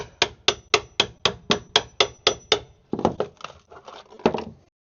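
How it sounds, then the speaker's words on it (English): A hammer drives a scraper to tap out material from a bus conversion motorhome entryway step, starting as about ten sharp, evenly spaced knocks close by and then breaking into looser, irregular blows before stopping. "put my scraper under here, and I'm just going to have to tap all this out like this"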